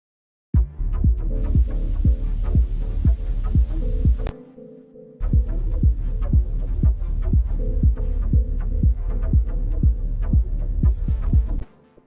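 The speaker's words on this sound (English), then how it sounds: "let's add the bass and the synth" Dub techno groove built in FL Studio, with a deep throbbing bass and chord synth pulsing in a steady loud rhythm, a short drop-out partway through before the pattern resumes.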